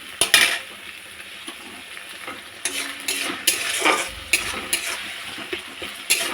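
Onion, ginger, garlic and tomato paste frying in a pan, with a sizzle under repeated scraping strokes of a spoon or spatula against the pan, close by with no voices.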